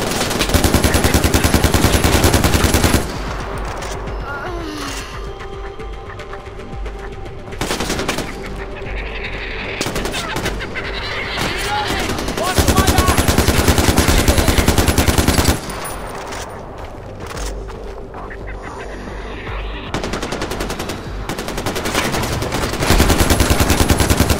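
Loud, dense automatic gunfire in the video game Far Cry 4, with sustained bursts stopping and starting again over the span while a game character shouts between them.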